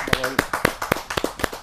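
Audience at a televised Hindi kavi sammelan poetry gathering clapping in a quick, fairly even rhythm of sharp claps, close and moderately loud for a short burst.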